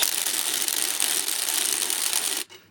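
A cordless driver spins a cylinder head bolt down, a close rapid buzzing whir that runs steadily and stops abruptly at the end.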